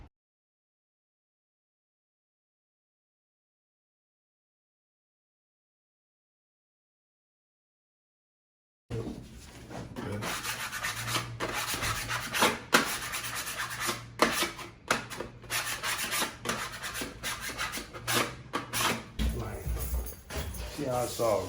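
Plaster patching compound being mixed by hand. After a long silence, close, gritty scraping and stirring rubs start abruptly and continue unevenly to the end.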